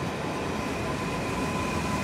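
Train passing in Wrocław, a steady loud roar of wheels on rails with a thin whine, continuous and close for the whole stretch.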